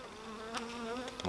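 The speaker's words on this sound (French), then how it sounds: "je vous montre quand même la couleur des abeilles" Honey bees buzz around an open Layens hive at an apiary in October. A faint, continuous drone holds through the whole stretch, with a few bees passing closer.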